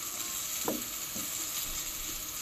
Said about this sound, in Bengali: আমার রান্না শুরুতে আলু ভেজে নিচ্ছি